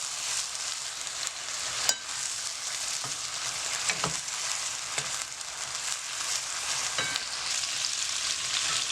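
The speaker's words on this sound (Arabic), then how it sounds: "كنبقاو هكا نشحروا في هاد الدجاج ديالنا هكا ياخد واحد اليمين، عاد نحطو ونبقاو نضيفو له الخضر اللي عندنا" Chicken and vegetables sauté in a pan with a steady, close frying sizzle that runs throughout, broken by a few sharp clicks and scrapes of stirring.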